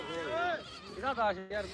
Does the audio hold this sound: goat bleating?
yes